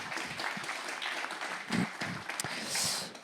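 Conference audience applauding at a round-table talk on parasport, a dense, steady patter of clapping in a hall for about three seconds.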